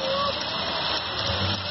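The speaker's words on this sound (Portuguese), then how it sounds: "Eita, chuva boa!" Heavy rain in the town of Aguiar in the Vale do Piancó, a loud, dense, roaring wash of water close by, unbroken throughout, with a voice briefly heard over it.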